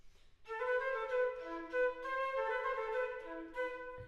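Baroque melodic line by Telemann played as originally written on a solo wind instrument, a short phrase of clear sustained notes, close and moderately soft, with no talking.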